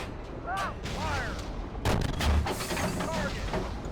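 Gunfire in the tank simulator Steel Beasts ProPE, several booming shots and rumbling reports over a continuous vehicle drone, with a short burst of radio chatter in the background.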